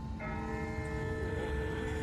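A distant church-style bell rings out in The Walking Dead Telltale video game, a steady sustained toll that starts just after the opening and hangs on over a low rumbling background, with no talking.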